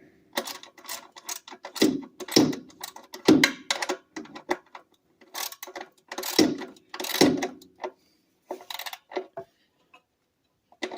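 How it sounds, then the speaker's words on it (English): A part being tightened down on a Robin 2PG golf cart engine, a ratchet clicking in short, close bursts separated by brief pauses, with no voices. "So let's go ahead and tighten this down."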